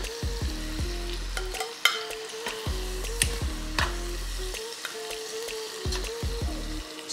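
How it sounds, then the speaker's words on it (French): Onions browning and sizzling in a pan, a loud, continuous close fry with clinking stirs and taps of a utensil at irregular intervals, and no voices. "on va incorporer les oignons. On va les faire rissoler."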